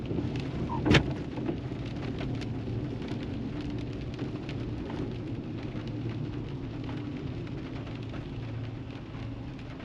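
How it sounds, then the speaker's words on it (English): Steady rain pours down in a dense, continuous hiss, with a single sharp crack standing out near the start. "The rain is coming down."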